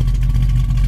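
Classic car with a brand-new dual exhaust running steadily, a loud, deep low rumble that holds even throughout with no talk over it.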